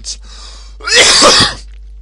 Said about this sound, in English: and then I have to cough